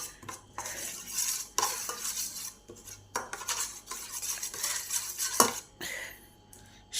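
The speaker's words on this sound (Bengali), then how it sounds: "এবার সব কিছুকে ভালো করে ফেটে" Egg mixed with chopped green chilli and chilli powder is beaten in a bowl for egg paratha, giving a steady run of close utensil scraping and clinking against the bowl with a few sharper knocks.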